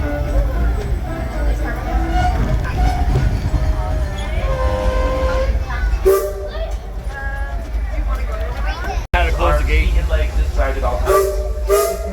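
Disneyland Railroad steam train running into Main Street Station, a low rumbling roll with hissing steam, while a loudspeaker announcement plays over the top and a short whistle-like tone sounds near the end.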